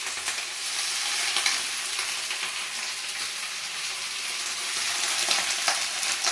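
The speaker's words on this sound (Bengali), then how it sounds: "কড়াতে আমার তেল গরম হয়ে গেছে, এবার আমি পেঁয়াজ কালিগুলো দিয়ে দেবো" Onion flower stalks frying in hot oil in a wok, a steady broadband crackle and hiss holding at an even level throughout with small brighter pops scattered through it, close and continuous with no talk.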